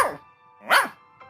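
A cartoon magic dog barks in two short, bright yelps with a quieter third bark at the end, set in an animated Hindi story.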